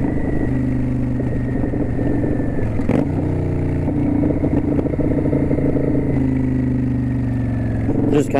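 A loud, steady Kawasaki Vulcan 900 Custom Special Edition motorcycle engine drones throughout with a throaty rumble while cruising back roads, a couple of brief clunks and shifts breaking the constant running note.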